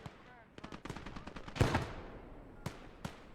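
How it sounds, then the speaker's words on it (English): A .50 caliber machine gun in the WWII game Gates of Hell: Ostfront fires a rattling stream of shots, then a louder burst, then two separate sharp reports, all over low battlefield background. "we do gun him down with the 50."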